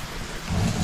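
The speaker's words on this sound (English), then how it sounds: "Rain picked up again." Rain patters on a shelter roof on Isle Royale, a soft, low rumbling wash that swells louder after a brief lull, heard alone with no voices.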